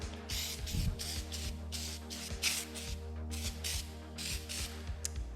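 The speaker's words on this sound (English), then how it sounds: "So shake it up, give it a nice spray down." Mothers cleaner is shaken and sprayed onto a 2023 Ducati Panigale V2, a series of soft hissing spray bursts close by, repeated at an even pace with faint clicks and handling noise between.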